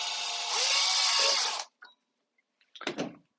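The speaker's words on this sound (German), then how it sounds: "Erstmal ein Loch bohren" A power drill whines at high speed for over a second and a half while drilling a hole near the rim of a CADAC Safari Chef 2 windshield, then stops, followed by a few clicks and a short rattling burst.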